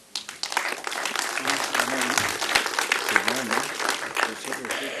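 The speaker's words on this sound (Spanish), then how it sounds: "lo escuchamos con mucha atención y también lo recibimos con un fuerte aplauso" An audience at an open parliamentary session applauds to welcome a speaker, with sustained dense clapping close by and voices murmuring underneath.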